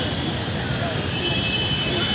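A metro train in a Hyderabad station gives off a steady, loud rolling roar with a high, sustained wheel squeal running throughout.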